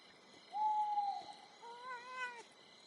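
Cat in the video game Pentiment meowing while being petted, a drawn-out clear meow followed by a second wavering, warbling call, quiet and alone.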